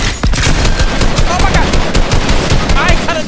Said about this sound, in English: Bro, I hear all my AR shots.